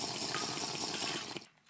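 Water pouring or running steadily at close range, a dense even rush that cuts off abruptly near the end.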